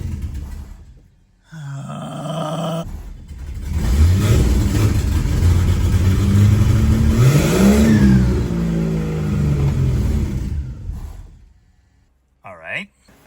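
A turbocharged slant six in a 1963 Plymouth Valiant, newly fitted with EFI, cranks and catches, then runs with a rough, rising and falling roar close by. The engine dies away near the end, and a voice speaks over the start.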